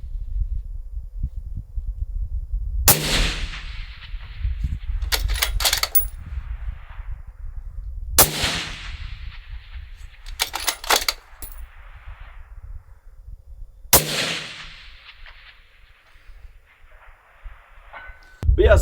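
Three heavy 6.5 PRC rifle shots fired at an orange 10-inch steel target on an outdoor range, spaced a few seconds apart, each a sharp crack followed by a faint distant ring of the hit and a rolling echo over steady wind noise.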